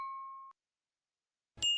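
A single bright notification ding rings out clearly and fades, followed by a short silence and then a second sharp metallic chime, both isolated with no talk.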